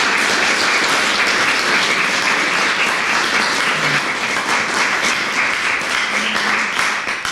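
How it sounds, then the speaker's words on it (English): A large audience claps in sustained, dense applause inside a church, continuing loudly throughout without pause. "maybe we can give them another round of applause"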